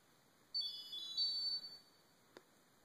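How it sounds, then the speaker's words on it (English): SDD shadow detector alarm set off by a shadow entering a red laser grid: a short high-pitched electronic beep-tone lasting about a second, then a faint click, with no talking. "if a shadow was to enter into the laser grid pattern, you would see and hear something like this."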